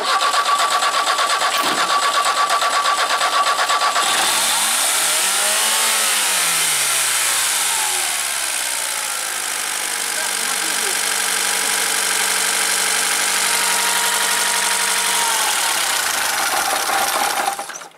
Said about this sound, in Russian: я не сказал, что трактор у меня на газу работает